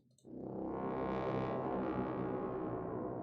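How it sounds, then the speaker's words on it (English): A synthesized tuba-like tone, unfiltered, swells in after a brief click and holds as one loud, buzzy, sustained low note with rich overtones, heard alone. "It's like a tuba. I believe it's a tuba."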